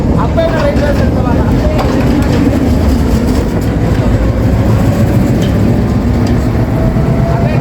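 A train rumbles past steadily and loudly near Ambewela railway station in Sri Lanka's highlands, a continuous heavy rolling roar with faint rhythmic clatter, heard up close from start to finish.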